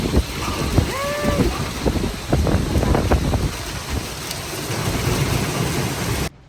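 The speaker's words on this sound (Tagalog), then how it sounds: "lakas ng ulan" Steady heavy rain hisses throughout in Boracay, with low rumbles and a brief animal call early on, ending abruptly.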